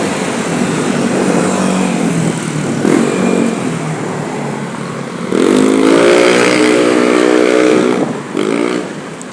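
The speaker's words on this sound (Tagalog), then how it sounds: "ang ingay-ingay ng mga motor" Loud motorcycle and other vehicle traffic roars continuously, with engines revving and swelling as they pass close by, one especially loud pass midway.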